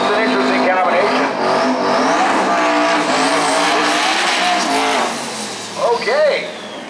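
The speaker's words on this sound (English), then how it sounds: "Cross the line burnout for John Askey." A drag race car does a burnout across the finish line at Maryland International Raceway, a loud, close roaring engine with squealing tires that fades out near the end, with a voice talking over it.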